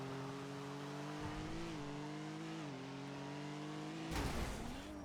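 A video game car drives with a steady, loud engine drone whose pitch dips and rises as it moves, then swells briefly near the end, with no talking.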